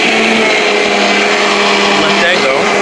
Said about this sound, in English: And put it in the blender.